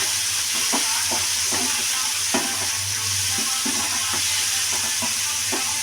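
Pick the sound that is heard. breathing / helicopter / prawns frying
prawns frying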